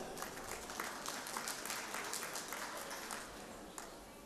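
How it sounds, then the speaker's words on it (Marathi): An audience at a youth inspiration awards ceremony applauds, a continuous, fairly dense patter of clapping at moderate distance that tapers slightly toward the end, with no speech over it. "टाळ्या जोरदार देऊयात आपण"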